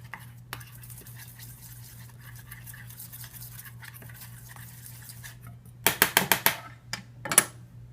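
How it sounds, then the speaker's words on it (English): Melted dark chocolate being stirred in a bowl, a quiet, soft background at first, then a quick series of sharp spoon taps and scrapes near the end. "my dark chocolate, and then going to stir it well"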